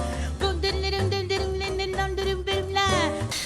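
Wordless jazz scat vocal improvisation, a lively voice bouncing through short syllables and sliding pitches in a quick, rhythmic phrase, heard clearly and close.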